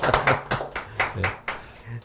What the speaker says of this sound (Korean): 박수 한번 부탁드리면 안 될까요?